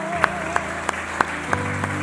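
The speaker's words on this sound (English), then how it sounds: "Can you please clap your hands?" A church congregation claps together in a steady rhythm, sharp hand claps about three per second ringing out over sustained music.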